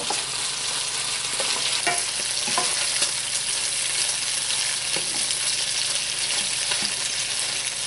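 Bacon sizzles steadily in a frying pan for a low-carb salad, with a fork scraping and pulling the strips apart in scattered clinks and scrapes over the constant close hiss.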